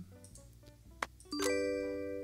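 A doorbell in the Electrician Simulator video game rings with a clear ding-dong chime after soft clicks, the second tone ringing out loud and sustained.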